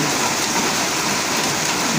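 Heavy monsoon rain pours down around a flock of geese, a dense, loud, unbroken hiss of drops striking surfaces, with no goose calls or voices standing out.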